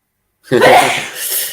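A single sudden sneeze bursts out close to the microphone after a moment of silence, sharp and loud, trailing off into a breathy tail.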